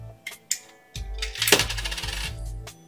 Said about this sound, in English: So now let's enter one more coin.